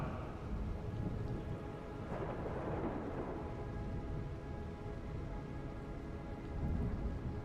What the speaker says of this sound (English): Soon, the sound of the ocean and storm kind of fade into a hypnotic drone.